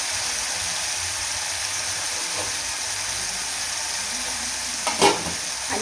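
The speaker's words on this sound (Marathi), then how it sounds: "टोमॅटो आहे ना आपल्याला 1 ते 2 मिनटं तेलामध्ये कमी गॅसवरती आपल्याला हा पूर्ण एकदम गाळ शिजवून द्यायचा आहे" Tomatoes and spices fry in oil in a pan over low heat, giving a steady, soft sizzle with faint stirring scrapes and one brief louder clatter near the end.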